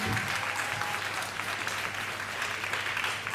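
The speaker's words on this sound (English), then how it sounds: "let us give them a round of applause and also make them feel welcome" Steady, dense audience applause fills a hall at a Missing Children's Day event as performers make their way to the stage, even and continuous throughout.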